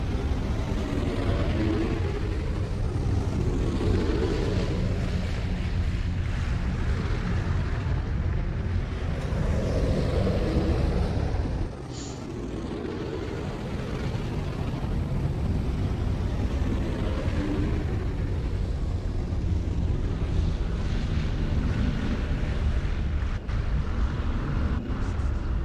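Shuttle flight in Star Wars: The Old Republic, a continuous low engine rumble and rushing air drone that holds steady for a long stretch, dipping briefly midway, with a voice talking now and then over it.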